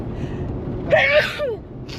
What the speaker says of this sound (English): Okay, I'm going to sneeze.